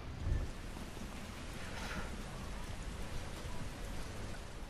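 Steady rain falling in the racing game The Crew 2, a faint, even hiss with a brief low rumble at the start, continuous throughout and with no voices.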